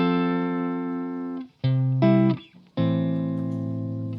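Electric guitar through a tweaked clean amp preset in Guitar Rig 6, a few long sustained chords with brief pauses between them, smooth and full, played alone and close.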